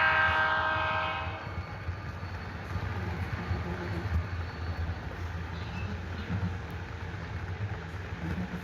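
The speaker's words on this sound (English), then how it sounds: "Here we see Santa Fe Train 108 approaching with a brand new SD75M trailing second and a Santa Fe FP45 in third" A Santa Fe freight train led by a new SD75M in second position and an FP45 in Super Fleet paint rumbles steadily as it approaches, with a horn blast at the start fading into continuous rail and engine noise.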